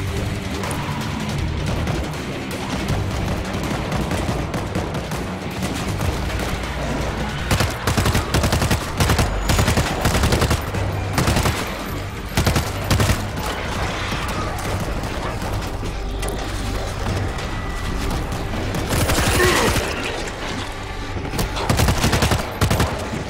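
Mounted heavy machine gun blazing in the World War Z zombie shooter, Moscow level: long sustained bursts of rapid automatic fire with brief pauses, loud and close, mixed with other game gunfire and crashes.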